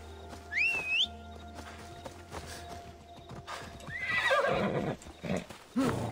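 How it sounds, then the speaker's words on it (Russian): Horse gallops in Assassin's Creed Odyssey, with steady clip-clop hoofbeats throughout and a couple of loud whinnies, one early and one longer near the middle, set against a quiet game ambience with no talk. "на лошадке доедем"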